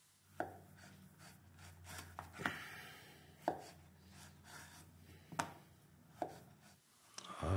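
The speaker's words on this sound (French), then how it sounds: "J'enchaîne avec la courgette que je vais couper en 4." A knife cuts a courgette into quarters on a cutting board, with about eight distinct, moderately loud thuds against the board, each followed by quiet handling noise between cuts.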